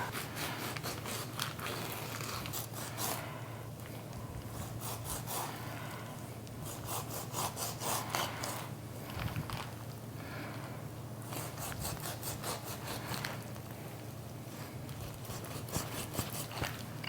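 A dull knife sawing back and forth through pastrami, repeated rasping strokes in bursts at close range with a low steady hum underneath.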